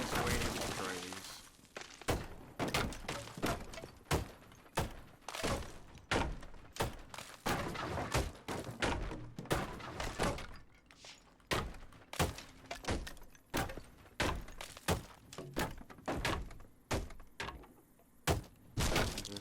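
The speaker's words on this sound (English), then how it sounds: "Struts are the easiest way to destroy these." Struts of a house are smashed apart in the video game Deconstruction Simulator, with a long run of loud, sharp impact thuds and cracks that come in quick bursts and irregular clusters.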